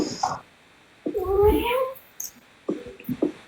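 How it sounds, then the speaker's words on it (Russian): A cat lets out one drawn-out meow, with brief voice sounds just before and after it in a quiet room. "Это же кот был?"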